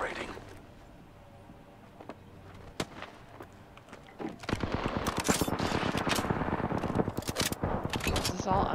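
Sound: gunfire in a video game

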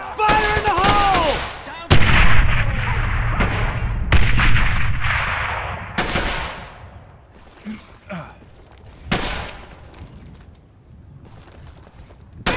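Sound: grenade explosion and gunfire in Brothers in Arms: Hell's Highway video game

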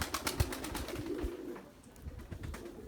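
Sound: pigeons taking off and flying

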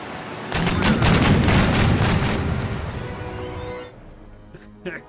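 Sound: ship broadside cannon fire in video game Empire Total War

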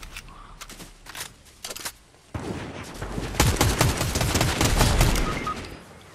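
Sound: sniper gunfire in a video game

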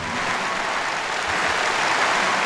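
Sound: audience applause at strongman deadlift event

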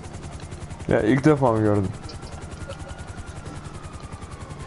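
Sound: helicopter in Rainbow Six Siege video game

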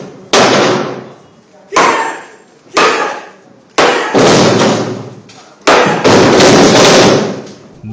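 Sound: hammer breaking 100 kg stone slab

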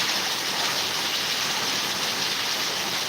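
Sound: rain falling in a village

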